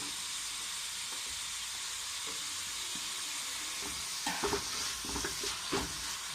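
Chopped shallots added to softened onions in a pan for a Kerala-style chicken curry give a steady close sizzle and hiss, with a few soft stirring scrapes and clinks toward the end.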